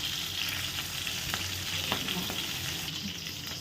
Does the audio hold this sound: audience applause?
no